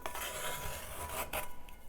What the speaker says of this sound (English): It'll also do the same thing along the edges of your cast iron pan here. So I can really just get in there and scrape that clean.